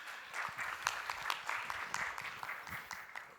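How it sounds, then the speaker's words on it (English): An audience claps in a room after a live network announcement, a moderate, even spread of many hands that carries on for a few seconds without other sounds. "Clap for you."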